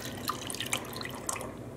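Water trickles and drips through a plastic funnel as it is rinsed while mixing acid dye stock solution, a soft, close splashing with a few bright drip plinks and no voices.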